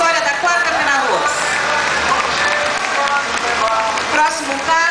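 Crowd applause at a themed street parade during a rice festival, a dense, sustained wash of clapping from many people throughout, with a voice talking over it.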